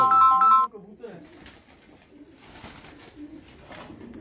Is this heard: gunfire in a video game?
no